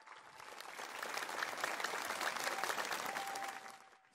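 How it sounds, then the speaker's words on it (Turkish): A political rally crowd in Turkey applauds a mayor, the clapping swelling into a full, fairly distant roar, holding steady, then fading out at the close. "Bu işi yapan bu aslan başkana yürekten bir alkış istiyorum."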